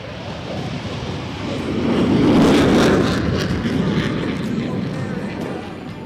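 An F-16 Fighting Falcon fighter jet at the London, Ontario airshow roars past as a broad rumbling engine wash that swells to a peak midway and then eases, with announcer-level crowd ambience underneath.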